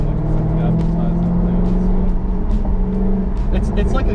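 A 550-horsepower supercar built for 200 mph accelerates hard, its engine a loud, continuous drone with rising harmonic tones throughout, while voices talk over it inside the cabin.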